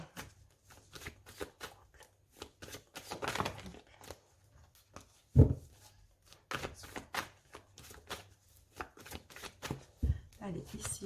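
A tarot deck being shuffled and cut, with repeated crisp riffling card bursts and a sharp slap partway through, mixed with someone talking and pausing between phrases.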